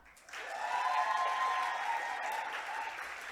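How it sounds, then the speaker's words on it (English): An audience at a youth-led panel discussion breaks into applause to welcome a young panelist from Eswatini. The clapping swells up after a brief pause, then holds steady and fairly soft, with a faint sustained tone running beneath it. "Keep clapping until progress comes."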